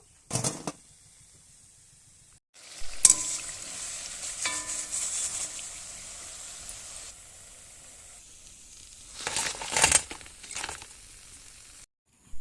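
Semolina biscuits frying in oil, a soft steady sizzle with bursts of louder crackling and spatter as pieces are turned, quieter stretches between, no talk.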